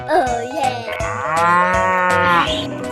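Cartoon cow giving a loud, close, drawn-out moo with a rising and falling tone, alone and clear.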